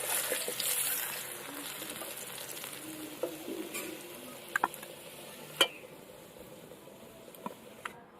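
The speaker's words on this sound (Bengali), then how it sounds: "আলুগুলো কিন্তু ভালো করে একদম এইরকম লাল করে ভেজে নিতে হবে" Potatoes frying in oil in a cooking pot, a soft continuous sizzle with occasional sharp clicks and taps from stirring, fairly quiet and close.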